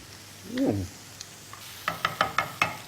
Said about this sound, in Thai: เดี๋ยวเราผัดไปสักพักหนึ่งนะครับ ตัวเห็ดก็จะค่อยๆคคลายน้ำออกมา